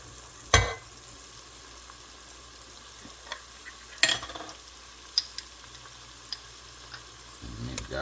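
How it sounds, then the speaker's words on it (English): Onions sizzle and fry in melted butter in a pan for homemade Alfredo sauce, a steady soft crackle with a few sharp clinks and stirring knocks scattered through it. "Just want that butter to get infused with the onions."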